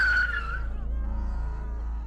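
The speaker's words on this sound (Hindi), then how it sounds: "विशाल की गाड़ी तेजी से अशोक वृक्ष के पास आकर रुकी।" A car skids hard to a fast stop as a sound effect in a Hindi horror audio drama, a loud tire screech that fades into a low engine rumble, with no voices.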